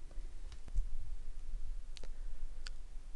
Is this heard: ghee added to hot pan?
no